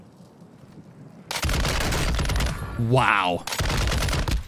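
RAL SMG fire in Call of Duty Warzone, loud rapid automatic bursts that fill most of the clip, with a voice exclaiming over the shooting midway.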